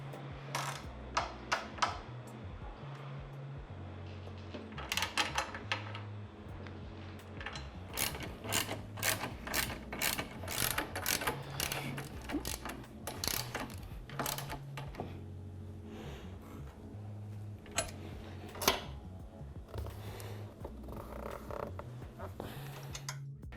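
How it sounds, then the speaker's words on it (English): A ratchet tightening Tusk crash bar mounting bolts on a Honda Transalp XL750, bursts of rapid clicking pawl strokes in close, quiet bouts separated by pauses and faint handling creaks. "we can start tightening hardware down"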